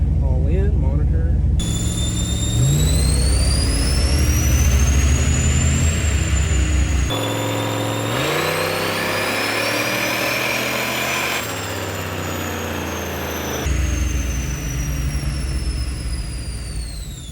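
Turbocharged police car engine revving hard on a dyno, a loud sustained roar rising in pitch through several gear-like sweeps with a high turbo whine over it.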